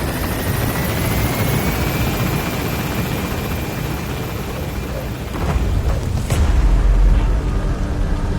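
A helicopter lifts off in Metal Gear Solid V: The Phantom Pain, its rotor chop and turbine whine loud and steady, swelling into a heavier rumble as it climbs.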